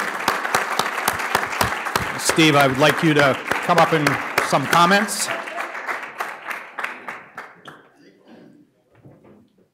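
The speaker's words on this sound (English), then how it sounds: "I would like to give him a round of applause and welcome him as co-chair" Audience at a Venture Mentoring Network lunch clapping for a newly named co-chair. The dense applause swells for several seconds and then tapers off to quiet, while someone speaks over the start of it.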